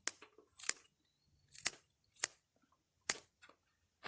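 Scissors snip through a bundle of folded smartweed herb stems, giving several crisp, close cutting strokes at an irregular pace with quiet pauses between them.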